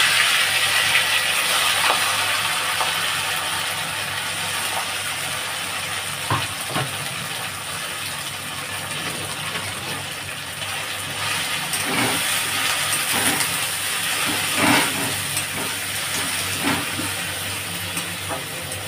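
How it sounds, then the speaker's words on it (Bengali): Braided fish kachuri frying in well-heated oil, giving a steady, even hiss with scattered soft pops and crackles throughout, no talking. "তেলটা ভালো মতন গরম হয়ে গেছে। তেলের মধ্যে আমি এটা দিয়ে দিলাম।"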